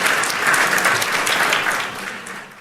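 Steady applause from a crowd, many hands clapping densely and fairly loud for a couple of seconds before tapering slightly at the end.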